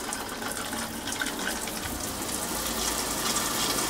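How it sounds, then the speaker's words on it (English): A newly installed shower runs on hot water from a hydronic system, giving a steady, close hiss and gush of spray that swells slightly toward the end, with no talk. "I'm going to try the shower for the very first time."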